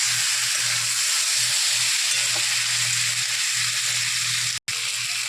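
Boiled yam stir-fried in a pan, a steady, close sizzle and hiss with a low hum underneath and one brief dropout near the end.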